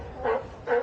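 A small puppy gives two short yipping barks with a whimpering edge, close by and moderately loud, about half a second apart.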